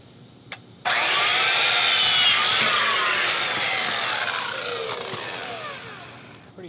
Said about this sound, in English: cutting the PVC we just bought in halves so we can mount them underneath the go-kart